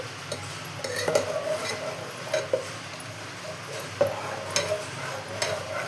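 Masala is stirred in a pan for okra sambar until it browns, with a soft, steady background sizzle and repeated scraping knocks from the utensil at an irregular pace.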